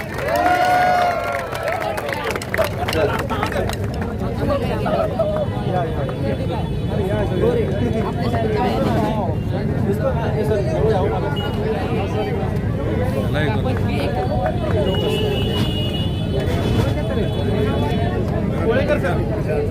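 A crowd claps steadily for the students of Stars Classes at a Surgical Society of Latur ceremony, a dense, continuous wash of applause that lasts throughout, with a voice speaking over it at the start.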